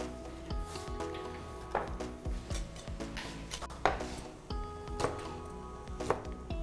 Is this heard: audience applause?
no